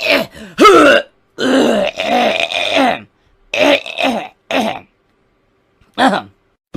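A person makes a series of loud, harsh throat and nasal noises, somewhere between snorts and clearing sounds, in short bursts with brief pauses. They are close and dominate the clip.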